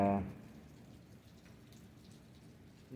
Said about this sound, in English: this is the most rain that I've seen in Florida so far